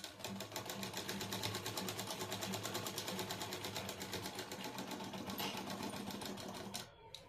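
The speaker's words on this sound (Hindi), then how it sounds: "इसी के ऊपर में फिर से सिलाई लगा लेनी है" A sewing machine runs steadily for about seven seconds, stitching back over a seam on cloth in a tailoring lesson, its rapid even needle rhythm loud and close before it stops abruptly near the end.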